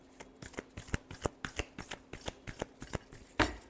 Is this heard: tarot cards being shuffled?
yes